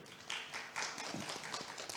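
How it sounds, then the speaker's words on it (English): Soft, scattered clapping from a conference panel audience, quiet and a little distant, with uneven claps across the whole two seconds. "Please round of applause again."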